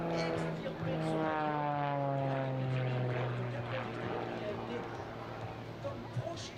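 A propeller aerobatic airplane performs at an air show, its engine droning loudly with a steady pitch that slides gradually downward. The sound stays fairly close throughout.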